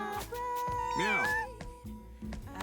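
A cat lets out a clear rising-and-falling meow in the middle, surrounded by a few short sharp sounds, with a person talking over parts of it.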